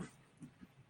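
A small puppy whimpers in a few soft, brief yips and whines, close but faint, spread across a quiet room.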